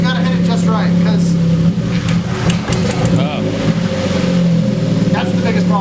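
A turbocharged KA engine in a Nissan 240SX revs and pulls steadily while driving, a loud continuous drone with rising tones, heard from inside the car with people talking over it.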